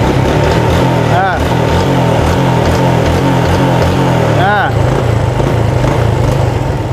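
A Yamaha Jupiter motorcycle engine revving after a repair, loud and close with a steady running drone and two quick throttle blips, while someone talks over it.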